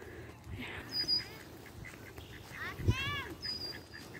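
Ducks on a pond give a few scattered quacks at moderate distance, with soft background chatter and a brief thump midway.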